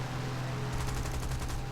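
In War Thunder, a D.520 fighter fires its aircraft machine guns in a rapid, rattling burst over the loud, constant drone of the engine, starting partway through.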